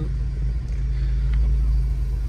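A Suzuki Cultus rumbles at low speed as it is parked in a residential lane, with a steady, close engine hum and no voices.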